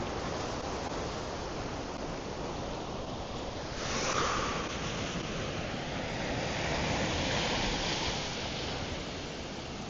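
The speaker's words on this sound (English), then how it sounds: "I love the sound of the ocean." Ocean waves wash steadily onto a beach, a loud continuous surf roar with a swelling crest around the middle and wind buffeting the microphone throughout.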